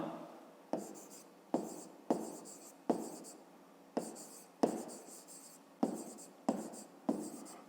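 A pen taps and scratches across paper in short bursts while a math solution is written down, about ten distinct strokes in steady rhythm, close and quiet, with no talk.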